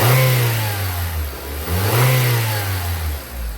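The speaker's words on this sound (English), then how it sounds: "Let me rev it." Iveco Daily van engine fitted with a DNA header, revved twice in close succession, the pitch rising and falling each time over a steady running note, loud and close with no talk.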